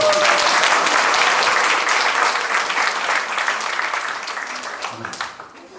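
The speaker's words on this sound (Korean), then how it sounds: "이럴 땐 박수 한번 쳐주는 거 아닙니까?" A crowd at a Busan Lions Club second anniversary and president inauguration ceremony bursts into loud, thick applause that holds steady, then thins and fades out near the end.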